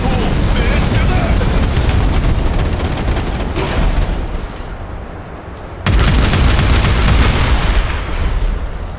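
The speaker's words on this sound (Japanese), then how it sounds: "キャノンボール命中だ。" A cannonball hit explodes in the game Figureheads, a dense roaring blast that fills the scene loudly, fades slightly and then surges again in a second heavy rumble.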